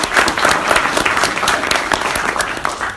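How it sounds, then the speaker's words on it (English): Dense, steady applause from an audience welcoming speaker Bobby Umar at an information night, a continuous patter of many hands clapping close by that never pauses. "can you please give a round of applause for Bobby Umar"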